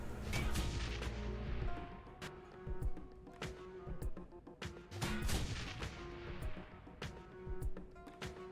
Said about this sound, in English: we're going to do our standard hit everyone with grenades tactic